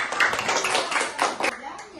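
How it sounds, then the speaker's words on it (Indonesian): Schoolchildren clap together in a classroom, a dense patter of hand claps filling two seconds with a few louder peaks, mixed with excited young voices. "Iya, bagus, tepuk tangan."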